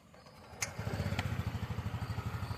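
A TVS Jupiter 110cc scooter engine cranks briefly, then settles into a steady, close, pulsing idle with an even low throb.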